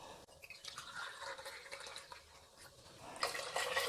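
Water being poured from a tumbler into a cooking pot while making fresh peas biryani with basmati rice, a faint, steady trickling and splashing that grows louder toward the end.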